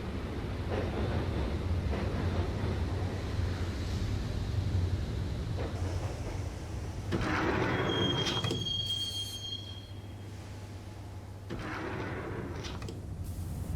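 A train in the video game Max Payne rumbles steadily along the rails, wheels clattering, with a high metallic squeal rising briefly partway through before the rolling noise settles again.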